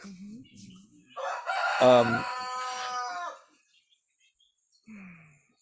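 A rooster crows once, loud and drawn out for about two seconds with a strained, wavering cry, between bits of faint nearby talk.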